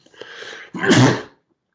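A single sharp sneeze bursts out close to the microphone, preceded by a short indrawn breath, then gives way to silence.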